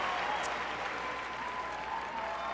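Steady applause rolls through the crowd at the 2006 Westminster Kennel Club Best in Show, heard from a distance as a continuous soft patter with no voices on top.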